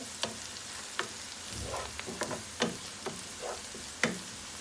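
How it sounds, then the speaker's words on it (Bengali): Onions frying and browning in a pan for green chilli chicken, a low continuous sizzle broken by several sharp clicks and scrapes of stirring spaced across the few seconds. "আমার এই যে পেঁয়াজটা ব্রাউন হচ্ছে।"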